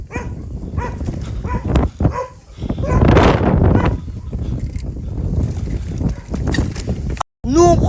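Dogs barking in a small village along a cycling route toward Turkey, with several sharp barks near the middle and other yaps scattered under wind and road noise; people talk at points.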